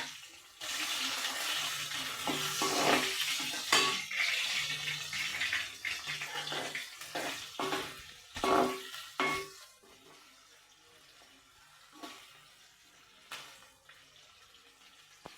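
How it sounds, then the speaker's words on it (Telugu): Sliced onions sizzling as they brown in hot oil for khichdi, a crackling, hissing sizzle with intermittent clinks and stirring bursts that fade to a quieter sizzle toward the end. "ఉల్లిపాయలు వేగుతున్నాయి."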